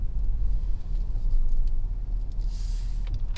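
Low, steady engine rumble from a 2019 Ford F-350 with the 6.7 engine making a slow wide turn toward a fuel pump, heard from inside the cab with faint clicks and rattles.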